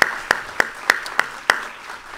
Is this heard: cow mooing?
no